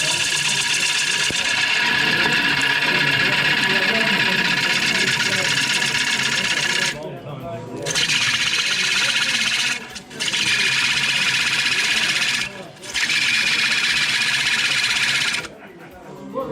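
Wood turning on a lathe with a 16mm gouge gives a loud, continuous whirring scrape, cutting out briefly a few times as the tool lifts away, while someone talks.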